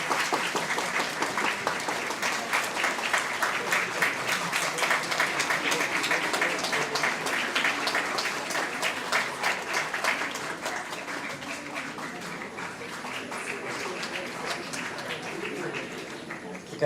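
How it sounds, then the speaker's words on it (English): Sustained audience applause at an oral oncology conference, a dense wash of many hands clapping steadily for about seventeen seconds, easing slightly toward the end. "You can understand from the applause."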